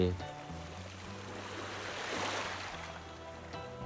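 Calm sea waves on the Trat coast in the rainy season, a soft wash of water that swells gently to a peak and then recedes, low and steady with a faint hum underneath.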